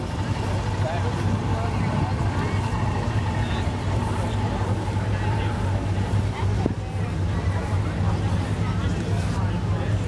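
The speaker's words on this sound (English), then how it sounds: "this is 1959 Chevrolet El Camino coming in." A 1959 Chevrolet El Camino rolls in at an outdoor car show and swap meet, its steady low engine rumble blending with continuous crowd chatter and ambient noise.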